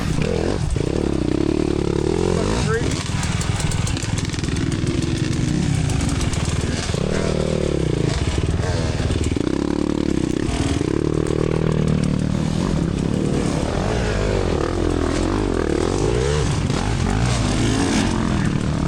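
A dirt bike fitted with a Rekluse clutch is pushed uphill on a wooded trail with the throttle held open: a loud, continuous engine drone rises and falls in pitch throughout, with occasional clatter.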